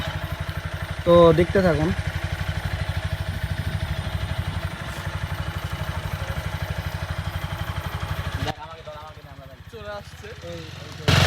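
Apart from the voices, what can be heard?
motorbike passing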